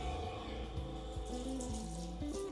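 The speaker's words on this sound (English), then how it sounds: "The system will turn on with a beep and initiate an 18-second auto flush." Water runs steadily through an iSpring CRO2000 commercial reverse osmosis filtration system during its auto flush. The flow makes a continuous low rushing hum with small gurgling pitch shifts, close by and fairly quiet.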